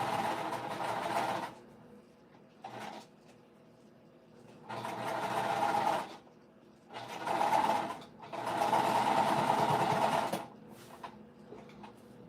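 A sewing machine top stitches a winter crescent bag in four separate bursts of whirring, each a few seconds long, with quiet pauses between and a short blip near the start.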